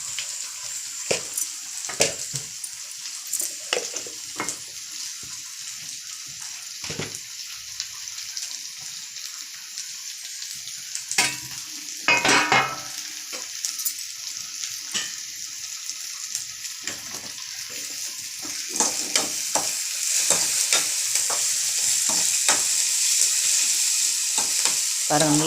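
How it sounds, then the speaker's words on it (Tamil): Onions sautéing in a pan for a snake gourd poriyal sizzle steadily, with frequent scraping stirs of a spatula; the frying grows a bit louder and denser toward the end, with no talking. "பாருங்கள், நல்லா வதக்கிக்கிறாப்புல. நல்லா பொன்னிறமாக ஆயிடுச்சு வெங்காயம்."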